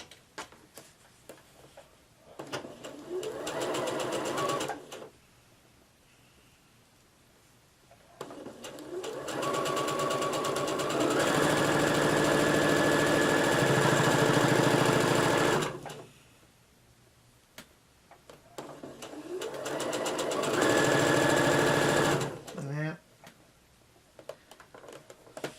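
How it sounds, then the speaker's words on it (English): Sewing machine stitching a 1/4 inch seam on a table runner, three separate bursts of fast steady whirring with quiet gaps and light ticks between, loud and close. "Sewing at a 1/4 inch seam."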